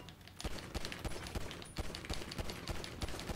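Rapid gunfire in Grand Theft Auto Online: a dense, steady burst of shots cracking several times per second for a few seconds, loud and close, with no talk over it.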